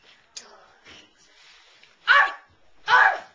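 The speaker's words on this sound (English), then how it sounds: "Dogs." Cartoon dogs give two loud, close barks near the end, following softer scuffling and yips, with no speech over them.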